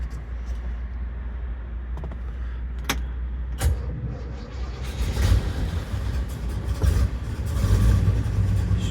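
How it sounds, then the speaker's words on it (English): A 1967 Buick Gran Sport with its 400 engine idling nearby, a steady low rumble with some clicks and light rattles, swelling a little louder toward the end. "This car runs so nice."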